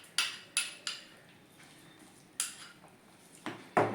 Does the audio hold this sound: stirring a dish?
yes